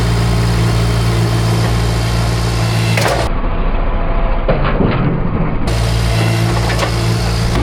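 A vehicle engine idles and drives at a house build site with a loud, steady low rumble. The drone holds throughout and briefly thins midway, with no voices.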